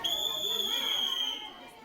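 A teacher at a school blows a whistle to summon kids to class: one steady, shrill tone held for over a second before it cuts off, with a faint murmur of background chatter.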